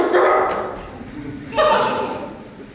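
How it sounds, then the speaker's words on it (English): A dog gives two short, gruff barks about a second and a half apart, each a close, voice-like bark that fades out, with nothing else heard in between. "Everyone calls me Doc, including my dog Mustard. Of course it sounds more like"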